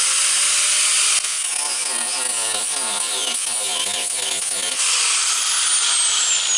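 A power cutting tool slices through the steel ear on a trailer tailgate, a harsh continuous grinding whine whose pitch wavers as it bites, loud and close, with a brief change in tone midway.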